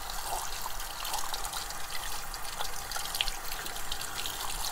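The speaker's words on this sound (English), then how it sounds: "Then I'll have to wash the sink as well." Tap water runs steadily into a sink as it is washed after cleaning an Eheim Classic 250 external canister aquarium filter, a continuous close splashing hiss with no talk.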